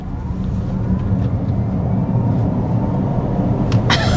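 Cadillac LYRIQ-V electric SUV launching from a brake hold at full throttle, giving a steady, loud low rumble with road and wind roar that stays constant throughout, with a couple of brief sharp ticks near the end.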